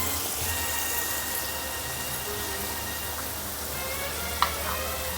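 Semolina (rava) fries in a pan with salted, deep-fried tomato, giving a steady, soft sizzle throughout with a brief sharper crackle near the end.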